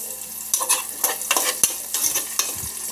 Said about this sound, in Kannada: ಇವಾಗ ಈರುಳ್ಳಿ ಚೆನ್ನಾಗಿ ಫ್ರೈ ಆಗಿದೆ